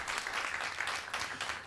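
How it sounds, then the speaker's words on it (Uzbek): Studio audience applauding a contestant at a comedy roast show, a dense, steady wash of clapping lasting the whole short moment with no voices over it. "Ulug'bek, olqishlab qo'yamiz."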